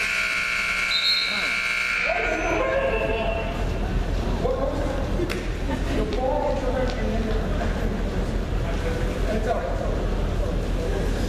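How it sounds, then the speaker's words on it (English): A long electronic buzzer sounds in a gym during a girls high school basketball game, a loud steady tone for about two seconds over crowd noise, followed by the arena din and commentary talk. "the ball hit the rim slightly before the buzzer went off"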